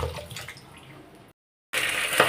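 Pomfret fish being rinsed under a running tap in a home kitchen, a steady close stream of water that cuts off briefly, then resumes louder.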